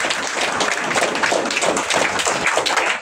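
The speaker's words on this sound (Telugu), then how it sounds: "big round of claps to all the students" Dense, loud applause from a crowd honouring students at a NEET results felicitation in Visakhapatnam, steady clapping filling the whole stretch without a break.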